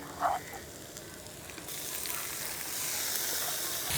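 Chicken sizzling in a pan with roasted coconut masala, a faint steady frying hiss that brightens and swells partway through after a brief clink at the start.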